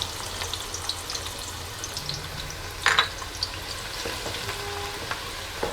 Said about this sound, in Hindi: ऑयल में जो हमने प्याज डाली है इसे हम करेंगे लाइट गोल्डन फ्राई